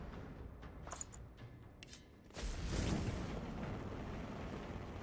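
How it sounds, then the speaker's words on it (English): A fire arrow fired from a crossbow bursts into a loud, sudden explosion in the Divinity: Original Sin 2 video game, followed by a sustained roaring rumble after a few quieter effects. "Oh, that was an epic explosion!"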